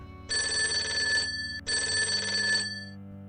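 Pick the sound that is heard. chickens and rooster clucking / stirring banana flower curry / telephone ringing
telephone ringing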